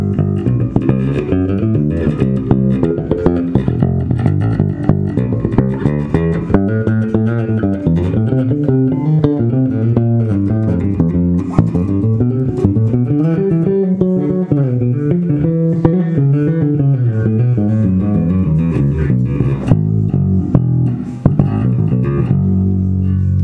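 A Fender Jazz Bass American Original 60s plays a continuous, flowing bass line of deep sustained notes, loud and close with no talking.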